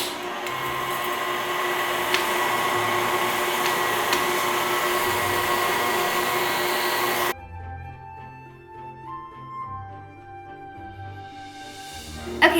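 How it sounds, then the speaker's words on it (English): Stand mixer driving an apple slicer attachment, a steady motor whir with mechanical clicks that carries on for about seven seconds and then cuts out, leaving quieter clatter behind. "Then all you have to do is turn on the mixer."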